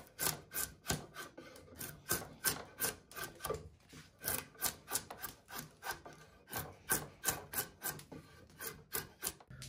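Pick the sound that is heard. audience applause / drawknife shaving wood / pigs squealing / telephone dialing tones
drawknife shaving wood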